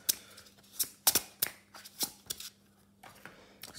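Tarot cards being shuffled by hand, a series of crisp riffling snaps and flutters in quick irregular bursts, close and fairly quiet, with no talking.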